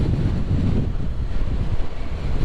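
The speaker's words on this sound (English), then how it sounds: "See if you can still hear me over the sound of the wind." Heavy, constant rumbling wind buffets a GoPro helmet microphone while riding a motorcycle, a loud low roar that fills the whole stretch without letup and with no voice heard.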